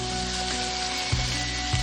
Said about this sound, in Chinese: 锅里油烧热，把胡豆倒进来，全程开大火煎